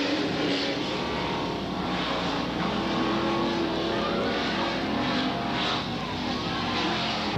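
Late model super stock cars roaring around an oval track in 1993, a dense, steady engine drone from the pack that barely changes in level throughout, with no audible talking.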